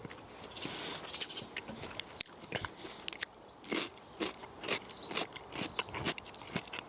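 Teeth bite into a crisp cucumber, followed by a series of loud, close crunches and chewing sounds coming in irregular bursts.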